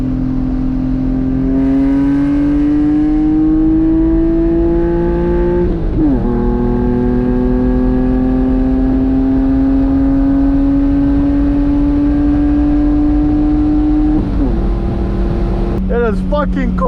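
BMW E46 with a 5-speed manual in a rolling pull from about 50 in cold, snowy conditions, engine note climbing steadily as it revs, a gear change near the six-second mark, then another rising pull and a shift near fourteen seconds.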